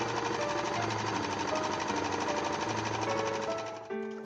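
An overlocker stitches cotton lining to purple sateen with a fast, continuous mechanical whir and chatter, running close and steady before winding down at the end.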